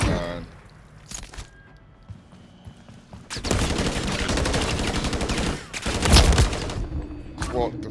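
Bursts of automatic gunfire and rapid shots in a Call of Duty ranked Hardpoint match, loud and dense in several volleys, with game voice and player talk mixed in.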